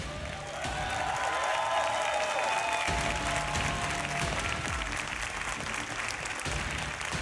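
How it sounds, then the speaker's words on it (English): A crowd applauds steadily at a Rainbow Six Siege Pro League grand final, a dense wash of clapping with some cheering mixed in, sustained throughout at a fairly loud level. "I know you guys would be the first to lead that applause for them."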